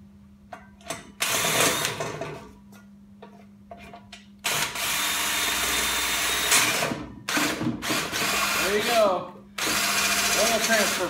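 A homemade oil transfer pump, built from a small-block Chevy oil pump and turned by a drill, whirs loudly in repeated bursts of several seconds as it fills a jug, with a steady hum between runs.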